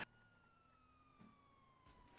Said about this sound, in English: Fucking people can hear the sirens,